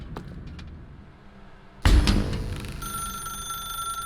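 A telephone in a video game suddenly starts ringing after a quiet, sparse stretch, its loud shrill electronic ring continuing steadily to the end.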